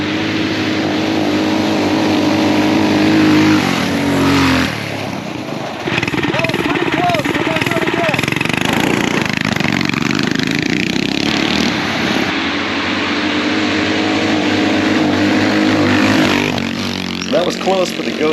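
Two Coleman BT200X mini bikes, one with a Predator Ghost 212 engine and one with a Predator 224, drone loudly in a close speed run, with small four-stroke engines buzzing and revving steadily and a brief dip in the middle.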